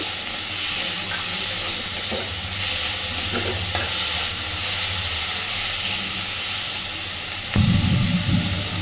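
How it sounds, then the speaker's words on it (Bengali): Onion, garlic and prawns sizzle and hiss steadily in a hot pan, with occasional stirring scrapes and a louder stir near the end, close and continuous with no talking. "মোটামুটি পেঁয়াজ রসুন চিংড়ি মাছটা একটু ভাজা হয়ে আসবে"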